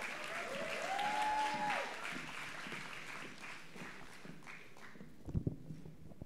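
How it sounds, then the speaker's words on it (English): An audience claps at a school graduation ceremony, with applause swelling for the first couple of seconds and then thinning out. A brief tone rises and falls over it, and a few knocks and footsteps land near the end. "Please welcome her to the stage with a resounding applause"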